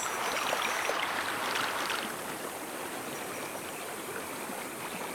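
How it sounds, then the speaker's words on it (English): Footsteps wading through water in the Vietnam War shooter ShellShock Nam '67 produce a continuous rushing, sloshing wash of water. It holds steady and fairly loud, easing slightly after two seconds, with no talking. "Proper animations when walking in the water."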